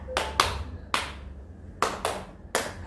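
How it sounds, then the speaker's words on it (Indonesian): A group of children playing a classroom clapping game claps in crisp, close bursts, six claps in an uneven rhythm of pairs and singles with quiet gaps between, no talking. "Kemudian kalau Miss Ocha bilang tepuk 3"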